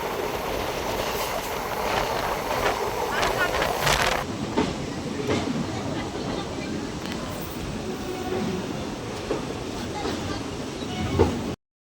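A train running on rails heard from on board, with a steady, loud rumble of wheels and carriage noise throughout and a brief squeal or burst of higher noise early on, under faint background voices.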